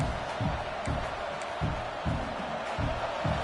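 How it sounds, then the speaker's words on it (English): A large crowd roars in a stadium at an NCAA college football game, with rhythmic pulses of noise rising and falling, heard from a distance. "It's early, but this crowd is fired up. Listen to this noise here."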